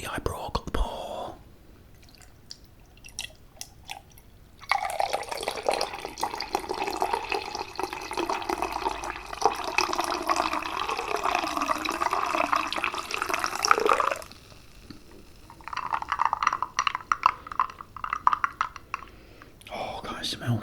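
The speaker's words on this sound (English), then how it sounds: "Okay, I'm going to pour this in." Liquid poured into a container during a McDonald's Cheesy Chicken Stack tasting: a steady, trickling pour lasting about ten seconds, close and soft, with quiet whispering before and after.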